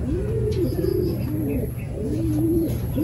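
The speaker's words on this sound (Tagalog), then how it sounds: "May ibon, no?" Pigeons coo in repeated soft, rolling phrases close by, several overlapping calls over a steady background hum, with no talking.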